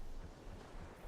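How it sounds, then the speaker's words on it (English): Ocean waves in the Webfishing video game give a brief, faint, steady wash of surf noise with no voices. "Sound of waves, man."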